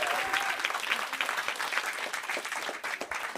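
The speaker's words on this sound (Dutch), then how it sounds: "Dames en heren, mag ik even een hartelijk applaus voor Denise Rozenboom." A live audience applauds steadily for a guest on stage at a Dutch live show, dense clapping filling the room with no talk over it.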